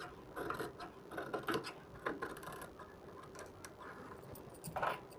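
Stitched suit fabric being cut through the middle gives off a quiet series of crisp, irregular snips and ticks, close but faint, with no talk.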